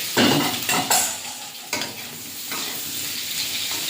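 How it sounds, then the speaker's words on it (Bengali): Pre-fried kankrol (spiny gourd) and potato pieces drop into a pan of fried onions, setting off a loud burst of sizzling with several stirring scrapes, then settling into a steady frying hiss. "এবার ভেজে রাখা ক্যাংরোল আর আলুটা দিয়ে দেবো।"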